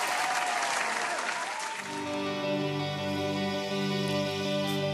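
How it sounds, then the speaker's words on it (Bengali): A concert audience at a show in Bangladesh bursts into loud, dense applause that lasts about two seconds before giving way to sustained musical tones. "ওনাদের জন্য একটা জোরে হাততালি প্লিজ"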